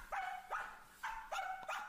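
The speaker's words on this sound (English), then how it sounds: "another common trait of the Samoyed is their unique and persistent bark" Samoyed dog barking in four separate sharp barks with short gaps, fairly close and clear, with no talking.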